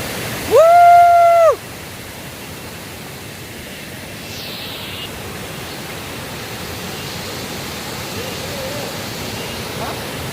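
A waterfall at Coorg roars steadily with a dense, even rush of falling water throughout, after a brief high electronic tone at the start.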